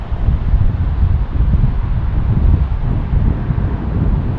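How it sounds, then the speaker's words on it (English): Strong gusts roar continuously at a plane-spotting location by Minneapolis–St. Paul airport, a loud, steady rumble of wind buffeting the microphone with no talking. "the wind's really starting to kick up here"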